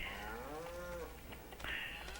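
Cattle lowing in Farming Simulator 25, one long drawn-out moo with a falling pitch and then a shorter second call, set against a steady game ambience with no talking.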